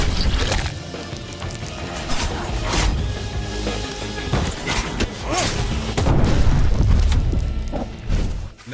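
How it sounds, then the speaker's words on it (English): Pipe bomb detonating in Dead Island 2, a dense burst of crashing, thudding blast noise that swells and rolls on for several seconds amid other game sounds, loud and close with no talk. "Let's go with the pipe bomb"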